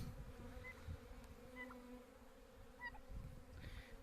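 Honey bees from an opened hive buzz in a steady, close, dense hum, with individual insects whining past now and then.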